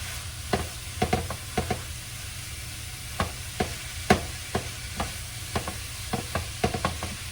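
Ground beef, about 1.5 pounds, browns in a pan for meat lasagna, giving a steady low sizzle under repeated scraping clicks as a utensil stirs and breaks up the meat, with no voices.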